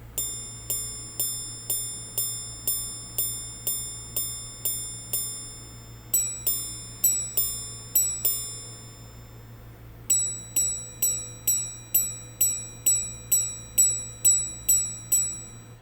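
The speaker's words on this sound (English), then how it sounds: "A minute repeater is a watch that chimes the hours and minutes on command." A Vacheron Constantin Patrimony ultra-thin minute repeater watch chimes close up, striking a run of evenly spaced tones, then a few paired chimes, then another quick series of bright, ringing strikes.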